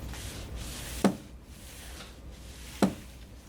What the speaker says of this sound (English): This is the sound of the demagnetizer.